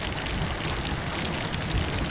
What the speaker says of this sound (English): It's raining and it's like the rumbling from Attack on Titan. It's just constant thunder.